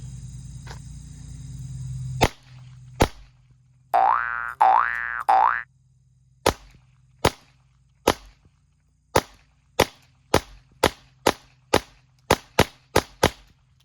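A CZ P-09C Nocturne pistol fires through a magazine in about fifteen sharp, loud reports that come faster toward the end, after a warbling electronic tone near the start.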